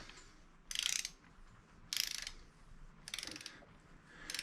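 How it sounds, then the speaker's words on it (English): Torque wrench set to 14 foot-pounds tightening 8mm bolts on a Honda BF150A outboard lower unit, four close bursts of rapid ratchet clicking separated by short pauses. "So I actually did break out the torque wrench and set it for 14 foot-pounds."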